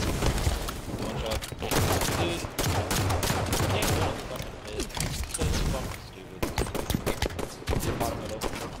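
Rapid volleys of gunfire crackle through a 2v2 video game match, bursts clustering and breaking off in dense, loud runs, with players talking over the shooting.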